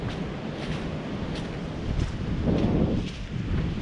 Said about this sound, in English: It is so windy still.